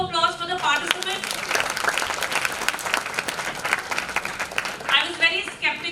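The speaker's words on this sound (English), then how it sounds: "A round of applause for the participants." An audience applauds debate participants at the close of a session, a dense burst of many hands clapping, loud and sustained, with a voice speaking over the start and end.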